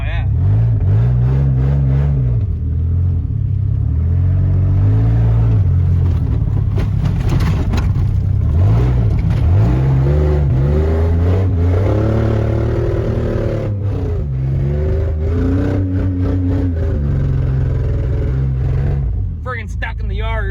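A 2004 Dodge Dakota pickup's engine revs repeatedly on a cold day, rising and falling in loud, close surges with a rough, clattering edge, while people talk over it throughout.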